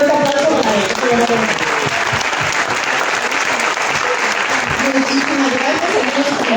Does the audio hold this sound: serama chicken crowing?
no